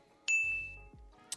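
A notification bell sound effect rings a single bright ding with a sustained shimmering tone, followed by a short low whoosh and a faint second chime, clean and close with no talking.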